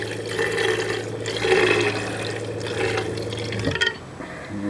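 Water in a flask whipped by a digital stir plate at full speed into a bubbly vortex, a steady close churning, gurgling wash with a brief splashy flurry near the end.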